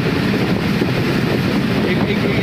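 A passenger train runs near the Hili land border between Bangladesh and India, producing a loud, constant rumble and rushing noise heard from on board, with no pauses.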